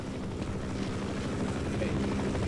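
Apache helicopter in the Half-Life video game, a continuous rhythmic rotor chop and engine drone holding steady at moderate loudness.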